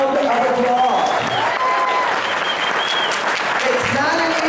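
An audience at an African American Caucus meeting in California gives loud, sustained applause for the caucus leader, Reginald Jones Sawyer, with voices and a cheer or two mixed into the clapping.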